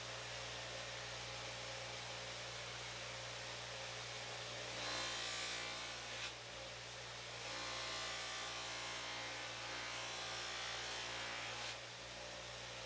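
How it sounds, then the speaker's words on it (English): A steady, whirring motor hum with a hissing grind that swells when stainless steel trim is pressed to the spinning buffing wheel, continuous and close. "I move on to the polishing step."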